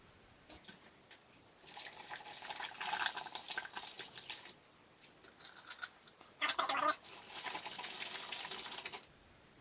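Vinegar is poured over old tools in a container, making a soft, steady liquid splashing and trickling in two long pours with a short gap between them. Quiet and close, with no voices.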